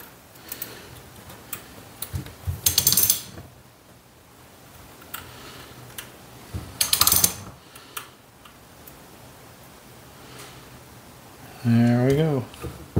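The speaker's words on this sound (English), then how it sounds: "First the ratchet." A ratchet gives off quick clicking in two short bursts, each a rapid run of sharp mechanical ticks, heard close. Quiet shop noise fills the gaps, and a brief voice-like sound comes near the end.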